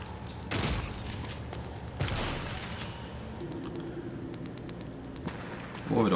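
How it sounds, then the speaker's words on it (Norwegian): Gunfire in the sci-fi shooter Prey: a few sharp bursts of shots, loud and close, scattered over a steady noisy game background, with a short burst near the end. "overraskende mange skudd"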